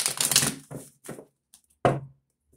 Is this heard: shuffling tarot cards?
yes